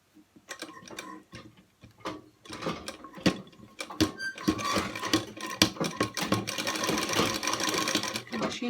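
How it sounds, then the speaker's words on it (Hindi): A sewing machine stitches lace onto a small dhoti for a Laddu Gopal idol, starting in short stop-start bursts of rapid ticking and settling into a steadier, louder run of stitching. "मशीन बहुत आवाज़ कर रही है, मैं इसमें सिलाई लगा देती हूँ"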